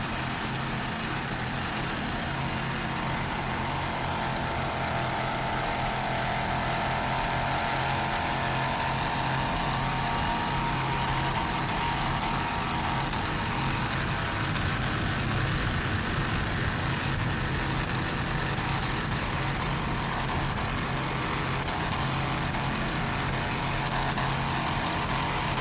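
Racing boat powered by two 2500-horsepower Mercruiser engines roars continuously in a heavy, droning wash of engine noise, steady and loud from start to finish with no voices.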